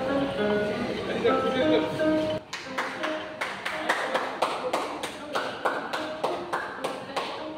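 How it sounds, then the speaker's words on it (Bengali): Repeated hand claps ring out sharply in a hall on a Digha sightseeing trip, a steady string of loud separate claps after a burst of crowd chatter and background noise. "মানে জোরে হাততালি দিতে হয়।"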